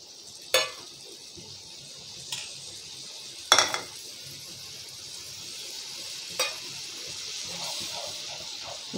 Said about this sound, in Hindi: इसको अच्छा से भून लूँगी मैं।